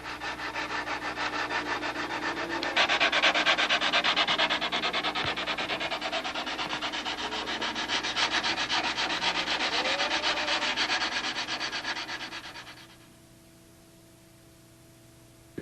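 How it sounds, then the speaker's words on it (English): A big sanding block rubs steadily down the caps of a wooden aircraft wing held in a jig, a continuous close scratchy hiss that swells louder midway and stops near the end. "take the big sanding block and go right down the caps and everything"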